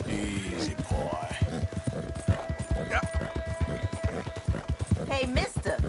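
Horse hooves clip-clop in a rapid, steady rhythm across a Red Dead Redemption 2 game scene, with a brief whinny and game sounds mixed in and continuous loud activity throughout.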